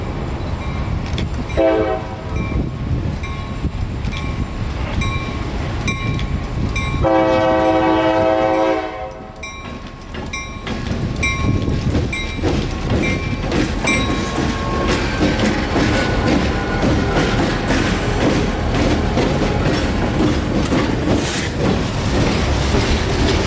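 Train locomotives on the Palmetto Subdivision rumble past with loud, steady mechanical noise, broken by two blasts of a horn, then rolling wheels clatter along the rails.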